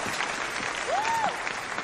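A theater audience applauds, a dense and steady patter of many hands clapping throughout the short stretch.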